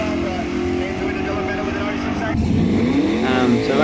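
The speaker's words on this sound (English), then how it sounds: "So just as I take off, you kind of see it lift up a little bit and the nose just falls down." A Mazda drag car with a 347 engine holds a steady, loud engine drone, then launches with a sharp rising rev as it pulls away from the line at the track, with a voice talking over it.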